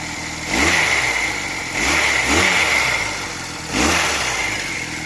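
A Honda CD175 motorcycle engine running close by, revved in three loud surges that fall back toward idle between them.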